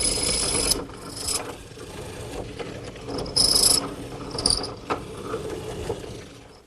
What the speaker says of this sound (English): I'm using my drill press, which has been outfitted with this mortising attachment.